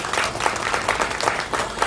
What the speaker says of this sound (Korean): 다시 한번 큰 박수로 응원 보내시면 좋겠습니다